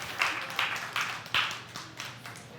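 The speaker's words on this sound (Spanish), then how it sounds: "Vamos a dar un aplauso al Señor" A church congregation gives a short round of applause to the Lord during a Spanish-language worship service, heard as a few soft, spaced bursts of clapping fading over about two seconds.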